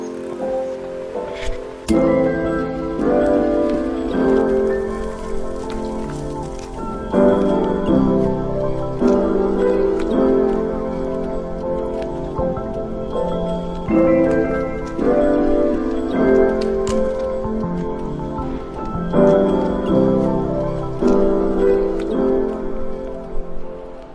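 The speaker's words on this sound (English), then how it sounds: "We had to set up the tarp last night because it started raining." Rain patters steadily on a tarp at a Tully Lake campsite in the middle of the night, a dense close drumming with uneven bursts and no voices throughout.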